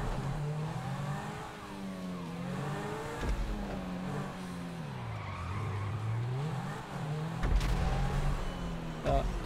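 Tires skid and squeal as a car slides in GTA 5 Online, with a droning engine that rises and falls in pitch throughout, loud and continuous over the whole stretch.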